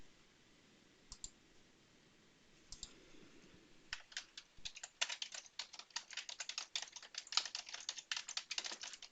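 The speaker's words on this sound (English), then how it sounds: "We'll type in a name" Typing on a computer keyboard while naming a new Arduino Nano project: a few isolated clicks, then a fast, dense run of close keystrokes that grows busier toward the end, with no voice.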